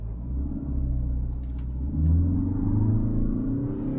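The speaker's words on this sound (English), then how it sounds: "Now revving the motor, rev still only 2000 RPM." The engine of a Hyundai Alcazar 6-seater automatic rumbles and is revved to around 2000 RPM, swelling to a deeper, louder growl midway and then settling, heard from inside the car without talk.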